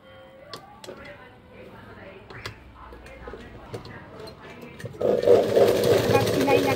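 A sewing machine stitches a hanging tassel onto a blouse, starting as a loud, steady whirring burst in the last couple of seconds after quieter handling sounds.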